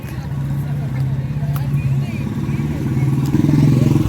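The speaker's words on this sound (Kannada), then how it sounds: "ಇವತ್ತು ಮಿಲನ್ ಆ್ಯಕ್ಚುಲಿ ಒಂದು ಹೊಸ ಬೈಕ್ ತೊಗೊಂಡಿದ್ದಾನೆ" A new Yamaha FZ motorcycle engine drones steadily and rises slightly toward the end, heard from on or near the bike while people talk over it.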